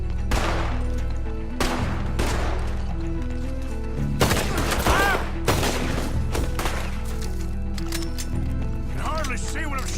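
Gunfire in Red Dead Redemption 2 during a close-range fight, with repeated loud shots and bursts cracking out across the whole stretch amid battle noise and horse sounds, while characters speak over it.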